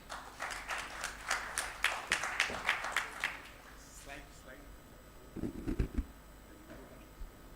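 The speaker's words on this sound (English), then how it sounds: "give them a huge round of applause" Guests at a live 2024 education course are greeted with a short burst of about ten quick, even claps from the audience, then it fades and talking takes over.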